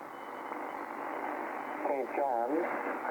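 Shortwave radio station on about 6.604 heard through a steady hiss of local interference noise, with a faint voice warbling in the middle of the static.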